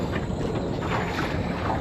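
Cold wind sweeps across a lake where anglers are fishing for large predatory fish, a steady, dense broadband roar buffeting the microphone without pause and with no one speaking.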